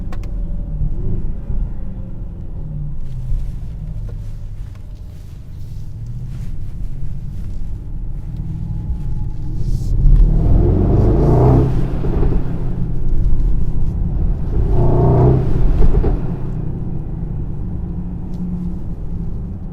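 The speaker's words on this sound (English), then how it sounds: "it is definitely fun driving a very large, heavy GLS with 630 horsepower" A 2022 Mercedes-AMG GLS 63, a large, heavy 630-horsepower SUV, driving with a steady low rumble inside the cabin that swells twice into stronger surges of acceleration, with no talking.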